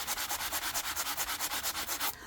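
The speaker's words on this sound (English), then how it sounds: "just take your your sanding block or a piece of sandpaper and sand over it" A sanding block rubs over magazine collage paper laid through a stencil, about fifteen quick, even back-and-forth scrapes up close, then it stops abruptly.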